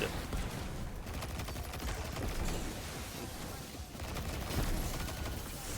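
Rapid bursts of gunfire in the Destiny 2 video game, played with a Hunter build, fire almost without pause, dense and loud, with small dips in level and no talk.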